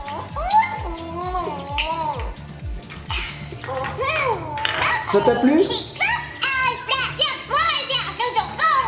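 A Luvabella interactive baby doll babbles in high, wavering, baby-like sounds. Its voice mixes with an adult and someone talking nearby, and all of it is close and fairly loud.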